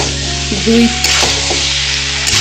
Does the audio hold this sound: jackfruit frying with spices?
yes